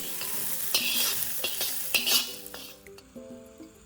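Cluster beans (gavar) are stirred and sautéed in a pan, with a steady sizzle under repeated sharp scrapes and clinks of a spoon against the metal; the frying fades and a few lighter taps follow.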